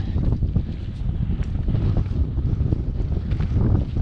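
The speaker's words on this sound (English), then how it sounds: "Okay, super windy. We got some blowing dust down here," Strong wind buffets the microphone in a steady, roaring rumble with gusty surges throughout, loud and close, with no one speaking, on a volcanic slope of Pico Viejo, Tenerife, with blowing dust.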